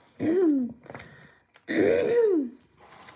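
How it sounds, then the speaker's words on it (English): Two loud, rasping throat clears, close up, separated by a short pause, with a softer breathy sound at the end. "let me clear my throat"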